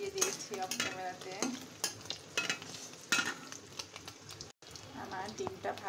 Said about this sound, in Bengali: আমার ডিমটা ভাজা হয়ে গেছে।